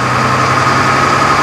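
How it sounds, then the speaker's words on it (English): A Cummins diesel engine, a 1992 replacement fitted in an AEC Routemaster London bus, idles with a loud, steady, low rumble and throb, heard close and alone. "And this meaty Cummins engine, a later replacement in"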